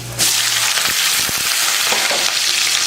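Onions drop into hot oil with fenugreek seeds and curry leaves for a bitter gourd curry, setting off a loud, continuous sizzle that holds steady, with a few stirring scrapes along the way.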